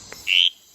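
A tour guide on a night frog walk in the forest imitates a Mexican tree frog call with his voice, making a single short, nasal quack-like squawk that stands out close and loud against quiet background.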